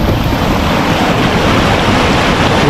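River water at a crossing near Talon Pari Falls in Doña Remedios Trinidad, Bulacan, rushes in a loud, continuous, broadband roar close by, with no talk.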